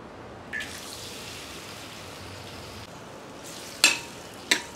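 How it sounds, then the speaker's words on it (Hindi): Coarsely chopped tomatoes frying in refined oil, a soft continuous sizzle with a sharp spatula clank near the end and another shortly after. "टमेटोज को अच्छे से हम थोड़ा सा फ्राई करें"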